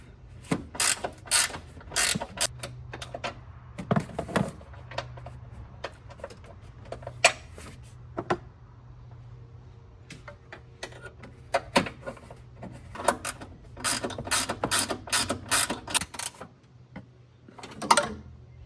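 A ratchet wrench clicks in quick bursts while tightening a hood strut bracket on a 2024 or later Toyota Tacoma, close and fairly quiet, with short pauses between runs of rapid ratcheting.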